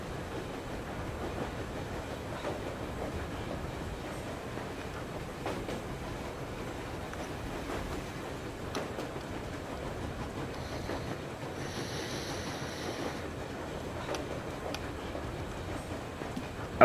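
A locomotive train rolls through the summer chapter of Metro Exodus, a steady low rumble with faint clattering and hissing that continues without a break at moderate distance, while no one speaks.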